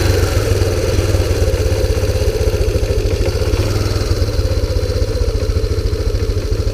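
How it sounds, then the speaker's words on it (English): A 2001 Kawasaki Bayou 300 ATV engine idles roughly, close and loud, with a fast, steady but slightly uneven putter and mechanical clatter throughout. "it's just not quite idling as smooth as I would like it to"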